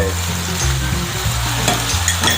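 Vegetables and sauce hitting a hot frying pan while cooking stir-fried chicken with black pepper, giving a loud, steady sizzle with stirring scrapes throughout, no voices.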